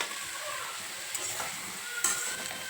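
Potatoes with turmeric being stirred in a pan for a light fish curry, a quiet steady sizzle with a couple of short scrapes from the spoon, and no one speaking.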